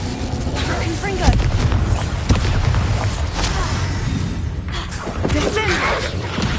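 A Confringo blasting spell fired in the video game Hogwarts Legacy, heard as repeated booming explosive bursts over a dense, continuous rumble of game combat effects.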